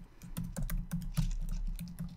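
Fingers tap out a website address on a computer keyboard, a quick, close run of crisp keystrokes in a brief burst, with no talk over it.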